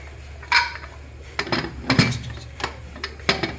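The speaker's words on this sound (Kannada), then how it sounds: "ಕುಕ್ಕರ್ ಲಿಡ್ನ ಕ್ಲೋಸ್ ಮಾಡಿಕೊಂಡು" Pressure cooker lid being closed during coconut rice cooking, a few metallic clanks and clinks spread across a few seconds, moderately loud and close, with no talking.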